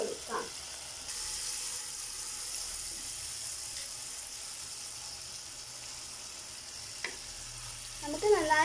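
Ground coconut paste is tipped into a pan of mackerel curry with bilimbi and stirred in. A steady soft sizzle runs throughout, with a few scraping stirs and small knocks near the end and no voices.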